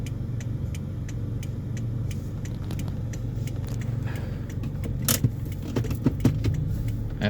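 A car cruises slowly while looking for parking, steady interior road rumble with a faint jingling of keys and a few brief clicks and knocks toward the end.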